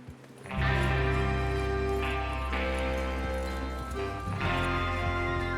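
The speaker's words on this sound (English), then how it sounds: "Get your horses ready." Horse hooves clip-clopping at a steady run under a sustained musical backdrop in the video game Red Dead Redemption 2, continuous and fairly loud throughout.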